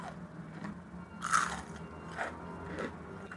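Crispy fried tofu with a crunchy outside and soft inside is bitten and chewed up close: one loud crunching bite, then several softer crunches in an irregular rhythm over a quiet room hum.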